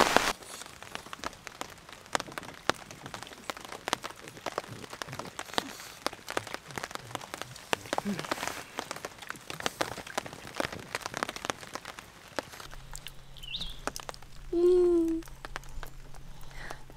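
Steady rain patters and drips on a surface while camping in the Algonquin backcountry, a dense crackle of drops throughout, with a faint bird call near the end.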